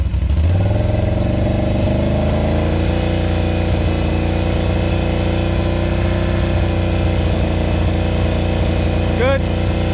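An engine fitted with an RJWC Krossflow Mud Edition exhaust revs up and holds near 3000 rpm, giving a loud, steady, continuous exhaust drone close by for about ten seconds.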